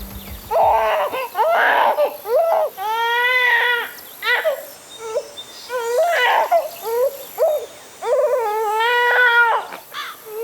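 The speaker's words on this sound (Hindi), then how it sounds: "बच्चा रो रहा है यार।" A baby cries in a crime drama scene, with loud, close wailing bursts that rise and fall in repeated sobbing cries with short breaths between them.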